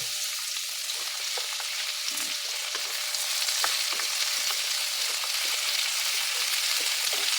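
String beans, eggplant and bitter gourd fry in a pan with a steady, dense hiss of sizzling oil, close up, broken by occasional soft stirring clicks and scrapes; nobody talks.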